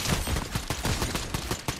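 Rapid gunfire in the Fortnite video game, a dense run of sharp repeated shots in quick rhythm, loud and close with no talk over it.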